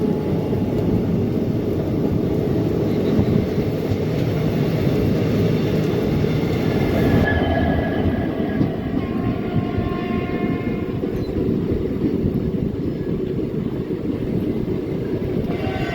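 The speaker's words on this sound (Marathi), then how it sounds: "ट्रेन काय जबरदस्त स्पीडने पळत आहे" A Kalaburagi–Kolhapur Superfast Express rushes along at speed between Solapur and Pandharpur with a loud, continuous rumble and rattle of wheels on track, steady throughout, heard from on board.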